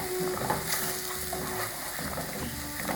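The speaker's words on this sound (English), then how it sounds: "Masala has to be fried, it will take little bit 1-2 minutes" Masala for restaurant-style matar paneer fries in a pan, a soft, steady sizzle under repeated scraping and stirring strokes, fairly quiet and continuous, with no voices.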